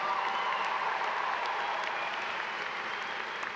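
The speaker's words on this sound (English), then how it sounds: "give yourself another big round of applause so they can hear you all the way in Salem" A crowd of graduates at a commencement ceremony claps in a sustained round of applause, a dense even roar of hand claps with faint cheers that holds steady for the whole stretch.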